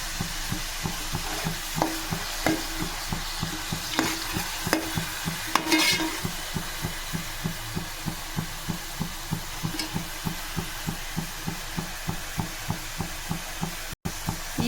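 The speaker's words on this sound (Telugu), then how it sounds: "ఇప్పుడు మిక్సీ పట్టుకున్న ఉల్లిపాయలు ఒకసారి బాగా కలిపేసుకుని" Ground onion paste fries in oil for a home-style fish curry while a spoon scrapes through it in quick, even strokes, a steady rhythmic stirring over a soft continuous sizzle.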